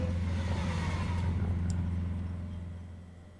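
Lamborghini SVJ engine in a racing game, a loud steady mid-pitched drone with slight revving, holding strong before gradually fading toward the end.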